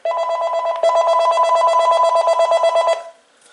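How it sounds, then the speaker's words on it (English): A Panasonic KX-TG5243 cordless phone rings at full volume, a steady electronic warble that holds with a brief break near one second, then cuts off after about three seconds, with no one talking. "let's go ahead and check out the ringer volume"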